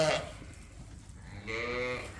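Sheep bleat inside a long, crowded barn during lambing season: a short bleat at the start, then a longer, wavering bleat near the end over low, steady barn noise.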